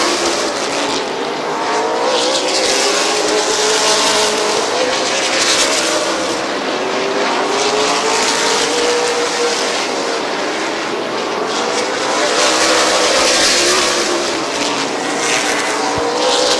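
Several race cars roar around a short oval at Midvale Speedway's fall classic, a dense, continuous wall of engine noise that swells and fades as the pack runs nose to tail through the turns.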